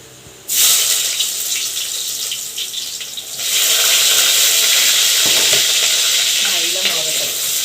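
Fenugreek seeds, then large pieces of ginger and garlic cloves dropped into a hot frying pan: a sudden sharp sizzle that eases slightly, then swells into a louder, steady crackling fry with faint spoon scraping.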